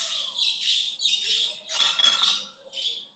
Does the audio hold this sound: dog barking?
no